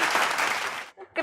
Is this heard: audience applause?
yes